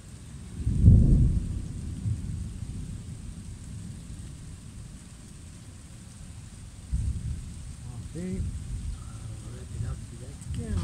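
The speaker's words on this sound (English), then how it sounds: "3 times I heard a real thunder strike" A deep, rumbling boom of thunder rolls in near the start, then a steady low rumble of storm noise continues, with a second swell later.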